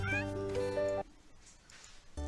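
A cat in the video game The Sims 4 gives a loud, drawn-out meow of about a second, followed by quiet background and a brief thump at the end.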